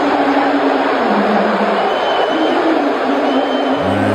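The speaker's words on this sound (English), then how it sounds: "Does this sound like a whole lot of cheering to you?" A large arena crowd at a Knicks basketball game roars in a dense, continuous wash of cheering and jeering voices, loud and sustained throughout with no single voice standing out.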